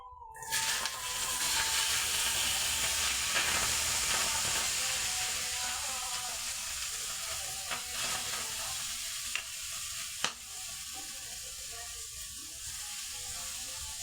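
Chopped tomatoes frying in a pan for tomato gojju on a stove, a steady close sizzle with occasional stirring clinks and scrapes throughout, no talk.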